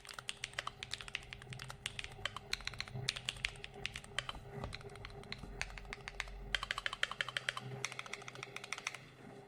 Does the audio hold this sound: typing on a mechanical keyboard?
yes